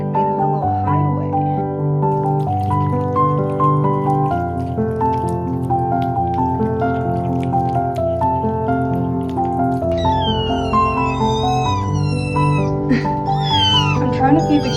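Several kittens meow repeatedly, their high, wavering cries overlapping above a steady tonal musical backing, growing busier and more insistent in the later part.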